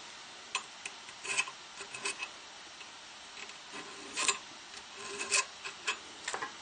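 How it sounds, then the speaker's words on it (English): A hand file rasps against the hole edge of a metal stamped bangle blank in short, uneven strokes, each a dry scrape heard close and fairly quiet, with brief pauses between strokes. "So I'm going to give it a little file."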